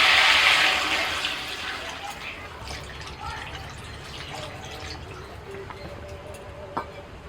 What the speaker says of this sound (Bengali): আলু আর ঝিঙে কষানো হয়ে গেছে এবার জল দিয়ে দিচ্ছি